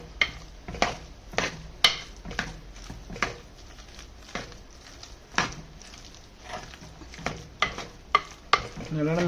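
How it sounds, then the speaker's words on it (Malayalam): Tapioca and sardine being stirred together in a clay pot, heard as close, irregular scraping and thudding strokes with a soft sizzle underneath and no talking. "നല്ലോണം മിക്സ് ചെയ്ത് കൊടുക്കണം."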